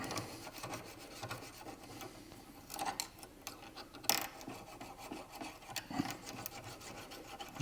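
A flat blade screwdriver scraping brake dust and grime off small metal rear brake parts of an MG ZS 180, a quiet run of irregular close rasping scrapes with a few sharper clicks.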